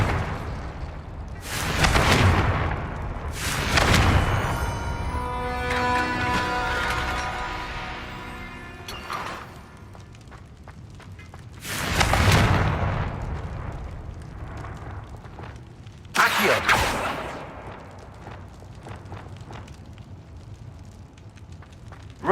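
Confringo explosive spell blasts from Hogwarts Legacy: four loud, booming detonations spread apart, each with a roaring, crackling fiery tail, and a soft sustained musical tone between the first blasts.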